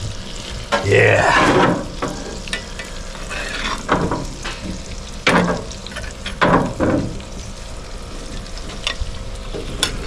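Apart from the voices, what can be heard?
Australian Wagyu ribeye steak sizzling on a high-temperature grill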